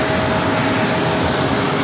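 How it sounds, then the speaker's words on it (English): An Alaska Airlines Boeing 737 MAX 9 jet at San Diego airport produces a loud, steady broadband roar that fills the whole moment without a break. "That is Alaska Flight 475 heading to Seattle, a 737 at MAX 9"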